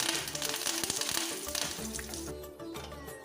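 Mustard seeds, fenugreek, dried red chillies and curry leaves sizzle in hot coconut oil for a Kerala mango kitchadi, a close, dense crackling hiss with sharp pops over a few seconds.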